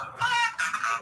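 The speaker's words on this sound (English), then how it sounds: "Oh, it's a parrot." A parrot squawks twice in quick succession, loud and near, with harsh nasal calls.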